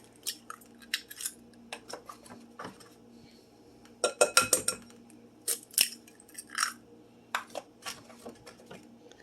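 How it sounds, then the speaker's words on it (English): Eggs cracked open for breakfast burritos, a series of sharp taps and clinks of shell against a bowl, scattered in quick clusters with quiet gaps between. "Going to crack open about 6 eggs, maybe 8."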